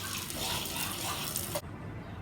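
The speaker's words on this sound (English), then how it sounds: "Second thing you want to do, wash your hands." Water streams from a tap during handwashing in a kitchen, a steady broadband rush that cuts off abruptly about two-thirds through, leaving quiet room tone.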